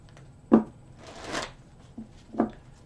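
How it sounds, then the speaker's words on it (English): Tarot cards being shuffled by hand up close, with a few sharp riffles and taps spaced through a quiet room and no talking. "I have shuffled these cards really good. I'm going to give it 3 more shuffles."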